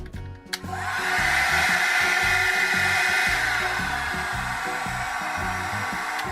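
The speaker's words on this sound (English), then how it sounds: "it's heating a little bit the air, but imagine if from here air has to go through this brush" A SilverCrest SWC 1000 D1 hot air styler, a 1000 W multi-function brush unit, switches on and blows a steady, close, loud rush of air that holds evenly to the end.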